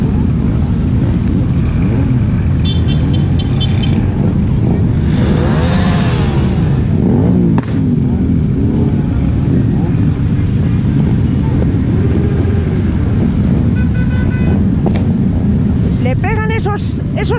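Motorcycles rev their engines during the Pingüinos 2019 flag parade in Valladolid, a dense, continuous roar with rising throttle bursts, heavy wind noise and voices in the crowd throughout.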